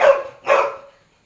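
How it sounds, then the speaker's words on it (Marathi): A dog barks twice close by, two short, loud, rough woofs about half a second apart, followed by silence. "पप्पाचा कुत्रा"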